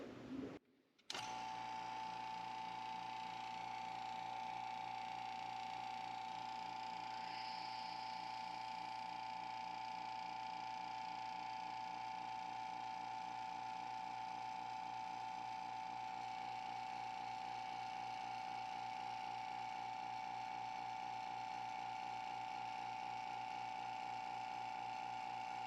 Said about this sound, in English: Turn on the vacuum pump, and then we'll bring it down to the full vacuum